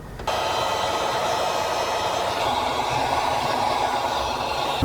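A heat gun blows steadily while sealing tint film onto a Kia taillight, a loud, continuous airy roar that starts abruptly and holds without a break, heard close with no speech.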